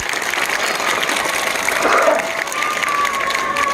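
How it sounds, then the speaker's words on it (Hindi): Students at a coaching centre and school clap loudly together, a steady burst of crowd applause with some cheering, and a brief tonal sound rising near the middle. "एक बार जोरदार तालियां मारिए"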